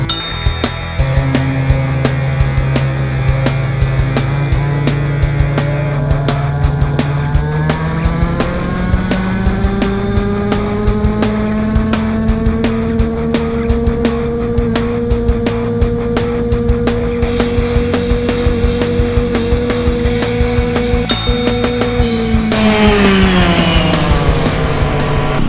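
A fast petrol scooter engine buzzes steadily while being ridden, its pitch climbing gradually as speed builds, then dropping off near the end amid wind rush, loud and close throughout.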